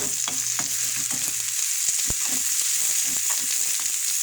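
Chopped onion sizzles in a very small frying pan while a spatula scrapes and stirs it, giving a steady hiss broken by sharp, irregular utensil knocks close by.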